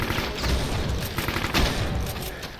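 Dense, continuous gunfire and explosive blasts in Brutal Doom on Ultra Violence, loud and close for the whole stretch, with no voices over it.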